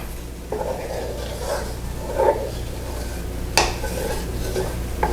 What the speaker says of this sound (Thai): ค่อยๆ คนนะคะ เดี๋ยวรอแป๊บหนึ่งเดี๋ยวให้กะทิแตกมัน